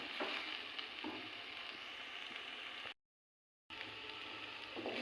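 Fried cauliflower pieces stirred with spices in a hot pan for a vegetarian cauliflower roast give a steady close sizzle with soft scraping stirs, cut by a brief silent dropout midway.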